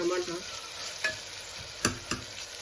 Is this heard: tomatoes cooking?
yes